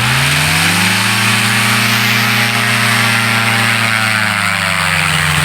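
Small propeller-driven aircraft on a rough grass takeoff strip, its engine roaring loud and close with a steady drone whose pitch swells and then settles, wind rush throughout, no voices.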